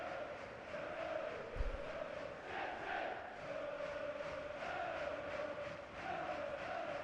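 A simulated stadium crowd in the FIFA 23 football video game keeps up a steady, distant roar, continuous and fairly faint, with swelling chants and no clear speech.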